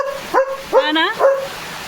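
A German Shepherd gives three short, loud barks close by, evenly spaced, with yelping, whine-like pitch sweeps on the middle one.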